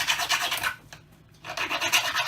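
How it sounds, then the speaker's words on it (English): A hand file roughening a metal rod to remove its shine gives close, scratchy rasping strokes, a short pause in the middle and then more of the same. "I'm going to take a file and roughen it up"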